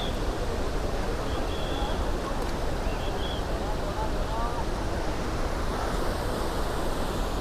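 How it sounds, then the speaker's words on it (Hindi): Fast water rushes down from above at Do Naali on the Manimahesh Kailash route, a continuous, loud, broadband roar that stays close and steady throughout with no pauses. "बहुत रफ्तार में पानी आ रहा है ऊपर से।"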